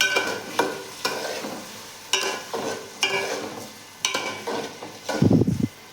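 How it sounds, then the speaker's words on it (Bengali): Rice fried and stirred in a pan for white pulao, with repeated scraping strokes of a spoon at a steady rhythm over a light sizzle, close and moderately loud, then a louder burst of frying near the end. "এই চালটা দিয়ে দিচ্ছি এর ভেতরে, দিয়ে চালটা একটু ভাজবো।"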